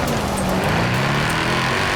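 A Mercedes-AMG GT R engine in the Forza Horizon 4 racing game holds a steady, loud drone for the whole stretch, with a low rumble and no talking over it.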